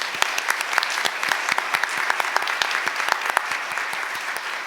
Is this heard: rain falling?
no